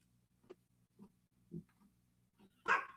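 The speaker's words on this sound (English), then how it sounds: "Shut up, dog." A dog barks several times nearby, a few short separate yips followed by one louder bark at the end, over a low steady hum.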